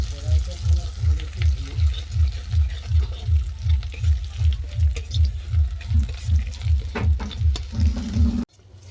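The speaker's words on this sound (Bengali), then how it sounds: "এটাকে বেশ বাদামি করে ভেজে নেব।" Black cumin and other ingredients frying in a pan, a loud steady sizzle with a rhythmic stirring pulse about twice a second, ending abruptly.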